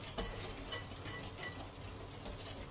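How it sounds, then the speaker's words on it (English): A small whisk beats pumpkin chocolate chip muffin batter in a bowl, a quiet, continuous rhythmic scraping and clicking with no voices. "we'll grab our little whisk and we will whisk her up"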